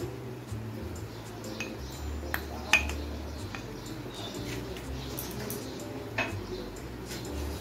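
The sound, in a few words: spoon mixing chilli and spice paste in a bowl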